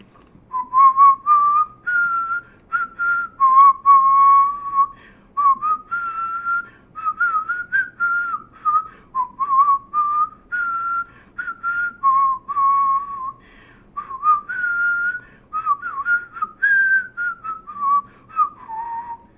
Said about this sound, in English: can I whistle the tune in the end?